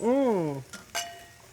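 Wine glasses filled with a local Okanagan wine clink together in a toast: a brief voice, then two quick glassy taps, the second ringing on faintly for a moment in a quiet kitchen.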